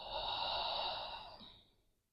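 A single deep exhale is breathed out slowly through the mouth in a yoga child's pose. It is close and breathy, swelling briefly and then fading away over about two seconds.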